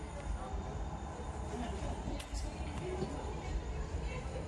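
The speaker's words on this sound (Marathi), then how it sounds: "ही ट्रेन आत्ता आली आहे" Low rumbling of a train arriving at a station with steady mechanical noise and occasional faint metallic squeaks, heard from nearby.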